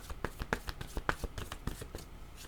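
Cards are shuffled for a spiritual-guide card reading, a quick, close riffle of papery flicks and soft slaps in a rapid, uneven rhythm.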